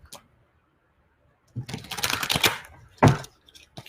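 Tarot cards are shuffled close to the mic in two short bursts of rapid riffling and flicking, the second ending in a sharp snap, separated by near silence.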